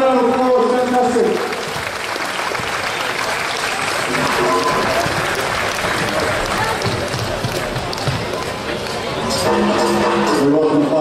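Applause and crowd noise at an indoor volleyball match, Queensland Pirates versus Canberra Heat, a sustained clapping wash with babble, fading midway and rising again near the end.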